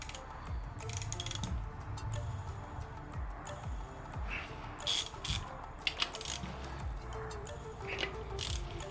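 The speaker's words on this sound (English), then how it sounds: "I'm gonna be using a 17 millimeter to take these off." A 17 mm ratchet wrench loosens bolts on a BMW M52B25 engine, giving scattered mechanical clicks and ticks over low background noise.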